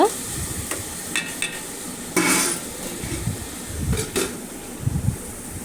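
Tomatoes being stirred in a pan for Andhra-style fish curry, a soft steady sizzle with a few scraping clicks of the spoon against the pan, fairly quiet and without talk.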